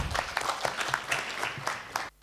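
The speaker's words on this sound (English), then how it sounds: "Please give applause to our alumni." Audience applause for alumni at a university public lecture by an EU ambassador: a steady patter of many hands clapping at moderate distance, cutting off abruptly near the end.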